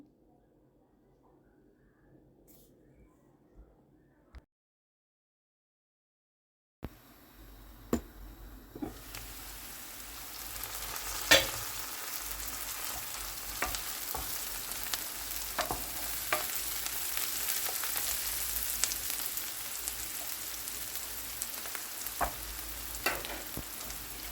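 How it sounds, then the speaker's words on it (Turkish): Onions sautéing in vegetable oil for Turkish stuffed cabbage rolls (karalahana sarması): after a quiet start, a sudden steady sizzle rises, with occasional sharp clicks and spatter pops of stirring, close and continuous. "Üzerine yarım su bardağından biraz daha az sıvı yağ ekleyerek hemen kavurmaya başlıyorum."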